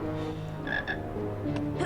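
A frog croaks inside a Ukrainian video game, two short bright croaks close together over a steady musical background, with no talking.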